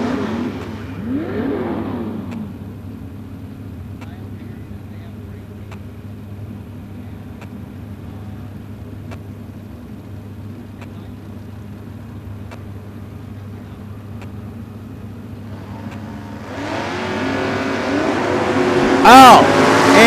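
Open-wheel drag race cars at the 2012 ANRA season finals eliminations hold a steady low rumble for most of the stretch, then engines swell sharply into a loud, rising roar near the end.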